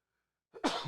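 A single sharp sneeze bursts out after near silence, close and brief.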